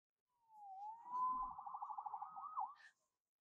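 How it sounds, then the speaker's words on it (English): A single police siren in a video game, Marvel's Spider-Man on PS4, rises and then warbles rapidly for a couple of seconds before cutting off, clear and isolated against silence. "Saved by the siren."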